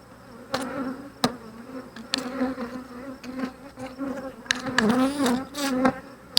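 Agitated honeybees swarm around an open Flow Hive during an inspection, a dense, close buzzing that rises and falls, with individual bees zipping past the microphone and a few sharp clicks.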